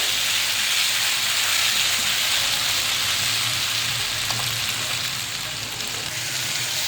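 Boiled, spice-coated baby potatoes frying lightly in a pan, a loud continuous hiss and crackle of hot oil held close and steady throughout, with no voices.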